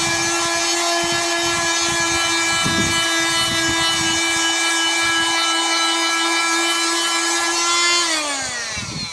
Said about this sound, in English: we're just using a multi-tool here with the sanding pad on it